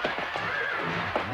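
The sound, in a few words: horse neighing in a video game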